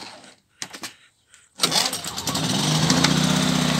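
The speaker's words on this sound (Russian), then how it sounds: "Вот, сейчас попробуем ее запустить." A Fubag TI 2000 inverter generator is started after a few faint handling sounds: its engine catches and settles into a loud, steady running drone.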